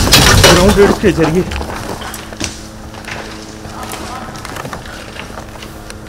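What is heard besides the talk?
explosion of a shell during airstrike in Beirut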